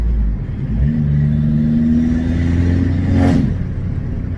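A car engine rumbles deeply up close, rising in a rev with a throaty exhaust note that peaks sharply and drops back; an Abarth 595 with a 200-cell sports catalytic converter.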